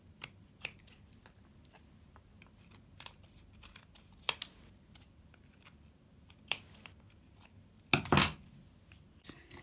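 Scissors snipping excess leather from a puppet body, a series of crisp separate cuts at an irregular pace, close and alone, with one longer crunchy cut near the end.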